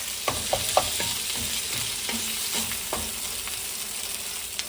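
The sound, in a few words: frying sliced onion and green and red peppers in oil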